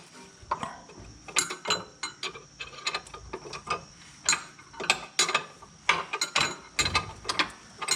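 A ratchet wrench tightens new 17 mm nuts in quick bursts of close, crisp clicking, each run of ratchet ticks separated by short pauses, with no voices.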